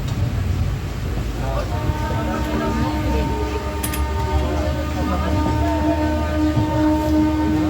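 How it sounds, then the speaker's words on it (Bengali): A passenger train bound for Digha pulls out and gets under way, giving a steady, close rumble of wagons with a droning hum that runs the whole time, with a faint murmur of voices in the carriage. "এখন ছেড়েছে ট্রেনটা"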